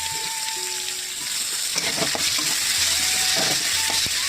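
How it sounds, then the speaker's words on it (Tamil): Tomatoes sizzle steadily in a hot pan, a constant frying hiss with occasional scrapes and clinks of a spoon stirring. "இப்போது தக்காளியும் சேர்த்து நல்லா வதக்கிக்கலாம்."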